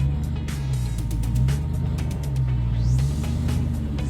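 An off-road rig crawls along the Sand Hollow trail, its engine giving a steady low rumble with faint mechanical clicks and rattles, close and continuous throughout.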